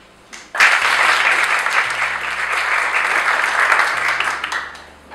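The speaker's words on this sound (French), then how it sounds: "Applaudissez MDI" Audience applause at a student entrepreneurship day at a school, a loud burst of clapping from a crowd that starts suddenly, holds steady for several seconds, then begins to taper off.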